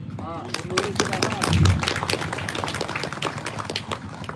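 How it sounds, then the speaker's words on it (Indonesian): An audience at a religious speech breaks into scattered clapping mixed with crowd voices and movement, a busy close patter of hands and murmuring rather than a clean burst of applause. "Tepuk tangan apa ini?"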